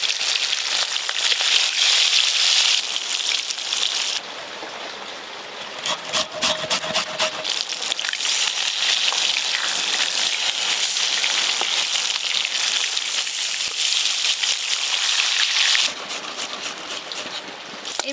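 Heavy rain falling outdoors on a tarpaulin rigged around a cooking fire, a dense steady hiss with brief shifts in strength and a few faint knocks.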